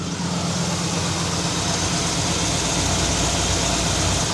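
A rebuilt 350 cubic inch V8 in a 1973 Pontiac LeMans Sport Coupe idling close by, a steady, unbroken low rumble with a broad hiss over it, no voices.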